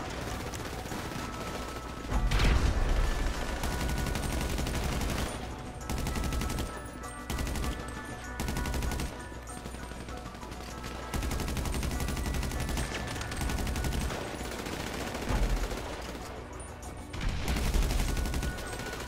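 Video game gunfire in Grand Theft Auto V, with grenade, shotgun and pistol, comes as loud, dense bursts of shots and explosions with rapid volleys, mechanical clicks and brief gaps across the whole stretch.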